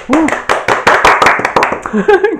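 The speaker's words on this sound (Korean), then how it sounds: "박수 대충 치는 것 봐." A small studio group claps in an uneven, half-hearted way, a few loud separate handclaps close by, mixed with voices talking and laughing.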